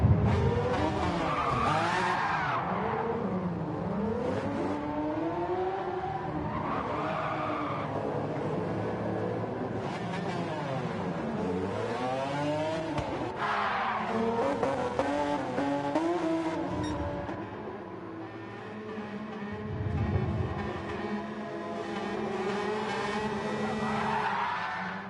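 A pack of race cars, led by a green Honda NSX on pole, accelerates from a rolling start in a racing video game, engines rising and falling in repeated loud sweeping whines with tyre noise, continuous and close.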